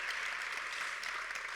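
Steady applause from a crowd at a volunteer awards ceremony fills the whole moment, dense and even, with no voices standing out.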